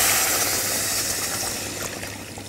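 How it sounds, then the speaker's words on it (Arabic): Milk pours steadily into a pot over sugar, a continuous close splashing wash that fades slightly toward the end. "اول حاجه هعملها ان انا هحط اللبن مع السكر"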